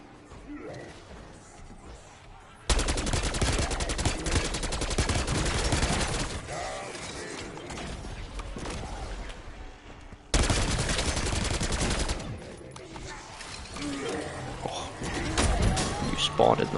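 Rapid gunfire bursts in Black Ops 6 Zombies at round 40, loud sustained volleys from about 2.7 s and again after 10 s, with a talking voice and game noise underneath.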